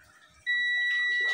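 A multimeter continuity buzzer switches on abruptly and holds a steady electronic tone, fairly loud and close, with faint background noise before it, while testing a digital TV box for a short circuit.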